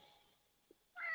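A house cat gives a single clear meow close to the microphone at the very end, after a stretch of near-silence in a quiet room during a podcast recording.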